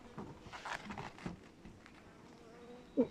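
Caucasian honey bees, a breeding colony from Artvin, buzz at their hive box in a steady, fairly faint drone, with a brief louder knock near the end.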